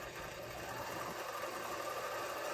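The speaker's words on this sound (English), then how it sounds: "I'm going to push the foot pedal" A sewing machine runs steadily under foot-pedal control while winding thread onto a bobbin, giving a continuous close whirring hum with a faint mechanical rattle.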